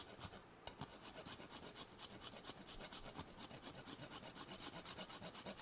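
Fresh whole nutmeg is grated on a microplane in a home kitchen, a quiet, rapid, rhythmic rasping scrape that repeats steadily without pause.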